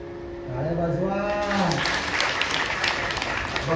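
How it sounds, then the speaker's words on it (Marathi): At a religious discourse, a speaker's voice gives way to a crowd clapping steadily together, the applause swelling and continuing through to the end. "टाळ्या वाजवा"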